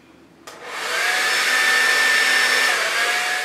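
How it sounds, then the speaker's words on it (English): A hair dryer switches on with a click and spins up into a loud, steady whooshing whine with a faint high tone, running close and unbroken with no talk. "And we'll use the hair dryer again."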